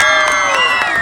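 A crowd cheers for a style dance performance by Shashi at a youth festival (Yuvothsava) in Nehru Stadium, a short, dense burst of shouting and whooping layered over music.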